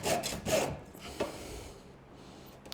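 A hand file rasping a burr off the cut end of a piece of barn wood hardware, several rough back-and-forth strokes up close in the first second and a half, then a faint scrape and quieter residue.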